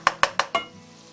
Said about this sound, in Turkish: Havuçlarla da çok güzel bir şekilde kavuruyorum